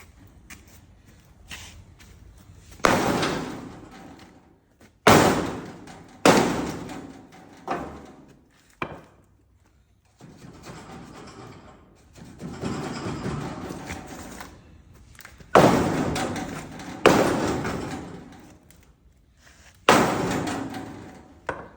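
Loud hammer blows land in irregular bursts while rebuilding an old equipment trailer, some as sharp single strikes and others as clattering runs, with pauses and scraping between them.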